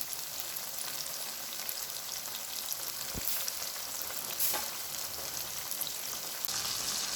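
Chicken pieces for a KFC-style recipe deep-frying slowly over a low flame, giving a steady, dense sizzle and crackle that runs throughout with a few brief louder pops, close up and with no voices.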